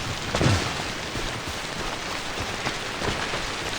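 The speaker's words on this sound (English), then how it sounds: "This rainfall is not stopping." Steady in-game rain (timefall) from Death Stranding pours down as a dense, even hiss of drops striking surfaces, with a brief low rumble near the start and no voices.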